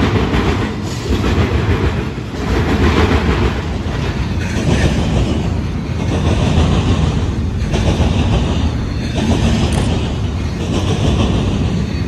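An intermodal freight train rolls past on the rails, a loud, steady rumble and wheel clatter that holds for the whole stretch with no voices.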